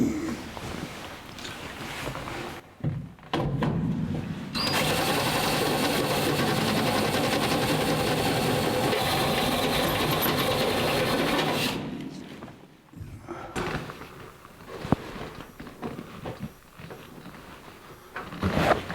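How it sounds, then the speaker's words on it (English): A step drill grinds steadily into sheet metal on a 1949 Chevrolet fender well for several seconds, preceded and followed by shorter bursts of drilling, with clattering and handling noises between. "What I'm using is a step drill, and I have to get to the right diameter for the grommet."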